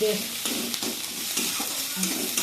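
A spice paste made with homemade chili powder fries and is stirred in a pan, a close sizzle broken by scraping strokes of the spoon.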